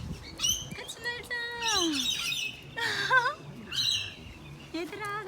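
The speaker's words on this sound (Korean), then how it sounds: "This is 야생 앵무새들." Wild parrots in a garden give off loud squawks and rising, chirping calls in bursts, close by, while a person speaks excitedly over them.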